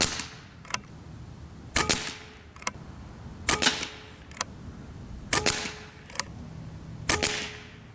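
An Evanix AR6K PCP air rifle fires 15.9 grain FX pellets, five sharp, close cracks spaced roughly every second and a half, each with a short tail and a faint metallic tick between shots.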